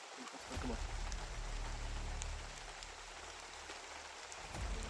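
Steady rain falls and patters on surfaces outdoors, a dense continuous hiss with a low rumble underneath, close and loud throughout, with no clear talk over it.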